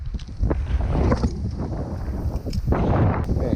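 Strong wind gusts of up to 50 miles an hour roar against the microphone while fishing from a boat, a heavy, steady low rumble with surging buffets and no talk.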